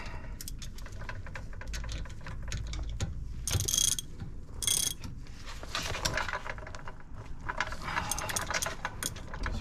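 Ratchet tightening a bolt during a brake job on a 2008 Acura MDX, close, quick bursts of clicking with a couple of louder metallic clanks amid workshop noise.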